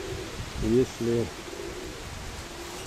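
Two short, low pigeon coos close together near the start, from a flock of flown pigeons out in the wind, with someone talking over the breezy background.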